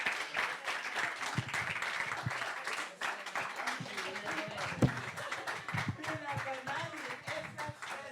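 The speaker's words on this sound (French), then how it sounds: "On applaudit très fort Nathalie F." Audience clapping for a slam poet at a poetry slam tournament in a youth and culture centre, a steady dense applause filling the room for several seconds, with voices and cheers mixed in.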